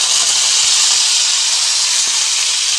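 Curry leaves hit hot oil with chana dal over a medium gas flame, making a loud, close, steady hiss that holds without a break.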